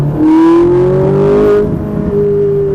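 A Ferrari 458 sports car engine on a race circuit revs up with a rising whine as it accelerates, loud and close, then eases into a steadier drone.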